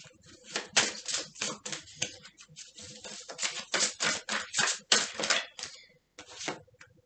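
Petit Lenormand cards being drawn and handled, a busy run of crisp papery flicks, slides and taps in quick irregular bursts, close and fairly loud, with brief pauses between strokes and no talking.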